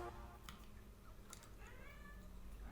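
Cats meow a few times, quiet and close, over a low background hum.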